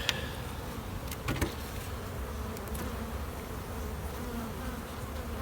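Honey bees fly in and out of a hive entrance, a dense, continuous buzzing swarm close by with a few louder passes near the microphone and no voices.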